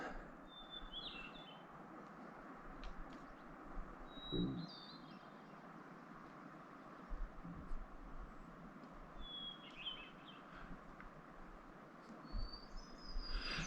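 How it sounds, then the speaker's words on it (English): Faint, thin whistled phrases of a Swainson's or hermit thrush come at intervals over a steady hiss of running water on a mountain trail, distant and soft, with no talking. "I believe that's either a Swainson's thrush or hermit thrush."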